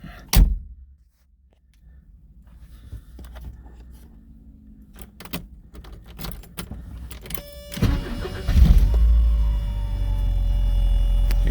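A 1983 Porsche 944 fires up after a cold start. A sharp click comes first, then quiet shuffling, and the engine catches near the end and settles into a steady, close idle hum.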